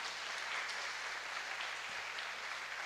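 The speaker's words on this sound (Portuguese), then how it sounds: "Deus merece uma salva de palmas aí por isso aí, né," Congregation applause during a church sermon, a faint, even wash of clapping heard at a distance, steady and low in level throughout.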